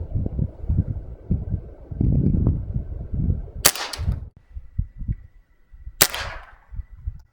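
Two sharp Crosman CO2 air pistol shots ring out a couple of seconds apart, each a crisp crack with a brief ringing tail, over low background rustle and muffled handling noise.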